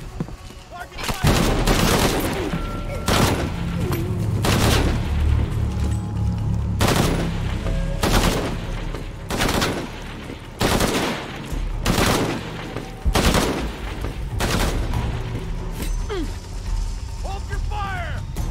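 Rapid gunfire in Shadow of the Tomb Raider, loud repeated bursts and single shots at irregular intervals over about eighteen seconds, with shouting voices and mechanical clatter between volleys.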